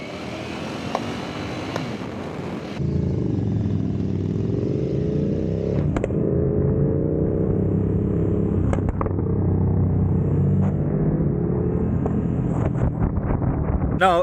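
A Ducati Streetfighter V4 motorcycle being ridden, its engine rumbling steadily and loud under heavy wind noise on the microphone, with the pitch rising and falling as the rider shifts and changes speed.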